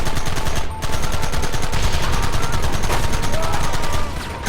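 Rapid sustained gunfire in the Red Dead Redemption mission "And You Will Know The Truth," a dense continuous rattle of repeated shots close up and loud, filling the whole stretch with a brief dip near the start.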